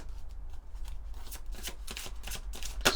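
A deck of oracle cards being shuffled by hand: close, crisp riffling and rustling bursts that grow denser and louder toward the end, over a low steady background hum.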